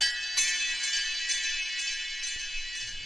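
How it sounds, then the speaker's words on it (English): Tuned bells from the Drum Fury sample library played with added delay, giving bright, ringing metallic tones that sustain and repeat in soft echoes, with one clear strike near the start and fainter repeats after it. "some bells, which are kind of tuned bells like this"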